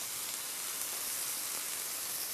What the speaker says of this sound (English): what you get initially is the briny liquid sizzling out of it